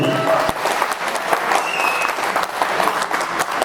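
A live audience bursts into steady applause during a comedy show, with dense, loud clapping that holds through the whole stretch. A little crowd noise sits under the claps, and no one speaks.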